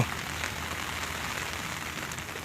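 Rain falls steadily beside a natural canal on a fishing outing, an even, dense patter on surfaces that holds at a constant level throughout with no voices.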